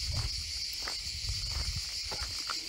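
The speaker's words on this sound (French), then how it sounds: "le chant des cigales" Cicadas in Provence keep up a steady, high, shimmering drone in the background, with soft rustling and a few faint knocks beneath it.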